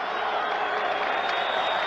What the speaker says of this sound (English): Crowd has been enthusiastic.